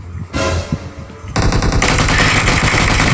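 Rapid automatic gunfire bursts from the PUBG Mobile video game, dense and loud in fast volleys with a sharper, heavier stretch of firing near the end.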